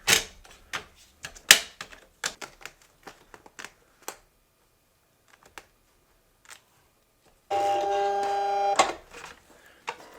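A vinyl cutter loads a roll of vinyl: a series of clicks and clacks as the material is fed, then a short steady motor whir of the rollers drawing it in, close up.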